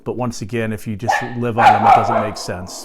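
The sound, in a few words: dog barking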